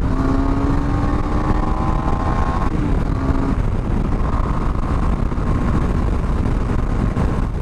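A KTM 390 Duke Adventure motorcycle rides through Jaipur city streets, its single-cylinder engine droning loudly and steadily with rising and falling revs and gear changes, wind buffeting the microphone throughout.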